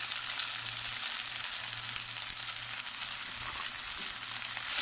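Chilli garlic Hakka noodles are stir-fried over a high flame, giving an even, close hissing sizzle that runs without pause and without any voices.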